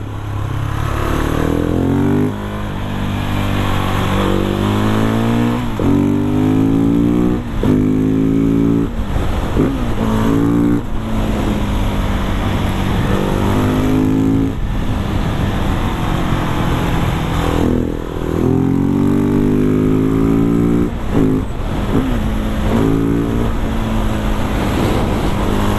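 Husqvarna 701 supermoto single-cylinder engine ridden hard through corners, loud and close, repeatedly revving up and dropping back as it shifts and brakes, with steady wind rush over the whole stretch.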